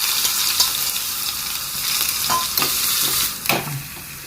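Garlic frying with mustard seeds in hot coconut oil in a pan gives a steady broadband sizzle, with a few sharper scrape-and-stir clicks near the end. No one speaks.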